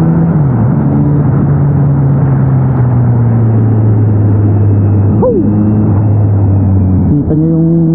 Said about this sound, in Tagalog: Kita nyo yung tunog ng inline form